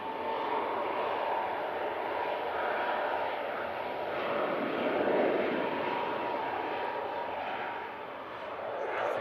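A jet airliner spooling up for departure from runway 23 left at Manchester Airport in thick fog, a moderately distant engine rumble that swells and eases gently, with no voices heard.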